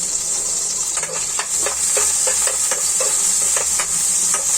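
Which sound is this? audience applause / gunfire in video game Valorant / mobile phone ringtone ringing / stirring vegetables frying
stirring vegetables frying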